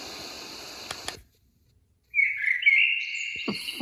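Bird chirps and tweets from a sleep sound app: a brief noisy start, a short silence, then bright high tweeting phrases that carry on to the end, fairly clear and close.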